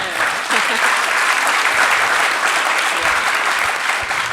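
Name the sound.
audience applause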